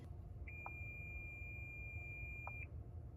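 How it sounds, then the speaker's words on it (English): A single steady electronic beep from a car's buzzer relay, triggered by an OBD2 scanner, holds for about two seconds against a quiet background hum, with faint clicks at its start and end. "Let's see the buzzer. It says buzzer relay."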